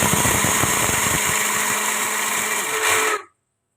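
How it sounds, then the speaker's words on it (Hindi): A kitchen grinder churns wheat into coarse porridge for panjeeri, a loud steady motor whine with rough grinding texture that runs continuously and then cuts off abruptly near the end. "हम उस गंदम का दलिया बना लेते हैं ग्राइंडर में।"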